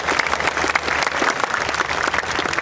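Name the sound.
congregation applause at revival service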